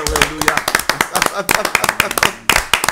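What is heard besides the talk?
church congregation applauding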